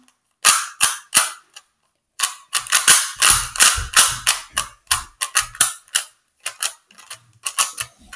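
A Rubik's brand speedcube is turned fast by hand, with rapid bursts of sharp, close plastic clicks coming in quick clusters separated by brief pauses.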